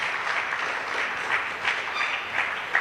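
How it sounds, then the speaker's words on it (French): A church congregation applauds the Lord with continuous, evenly paced clapping at moderate distance, with no talk over it. "On peut continuer d'acclamer le Seigneur pendant qu'il rejoint notre place."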